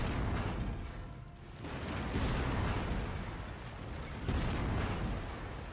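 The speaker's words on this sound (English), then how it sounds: "I was getting hit with auto cannons" Autocannon fire in the Mechwarrior 5: Mercenaries video game, a dense stream of heavy booming bursts and explosions that rolls on continuously, swelling in a couple of louder waves.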